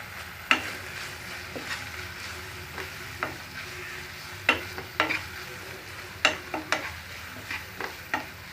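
Chicken for spring roll filling fries in a pan while being stirred, with a soft steady sizzle broken by sharp scraping and tapping strokes of a spatula at irregular intervals, close and without talk.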